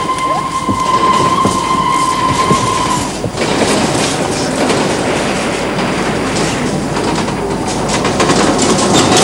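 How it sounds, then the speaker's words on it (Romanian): A train pulls into Medgidia railway station with a loud, steady rumble and rhythmic clickety-clack of wheels on rails. A thin high tone rings out during the opening seconds, then the heavy rolling noise continues without pause. "Hai că vine trenul."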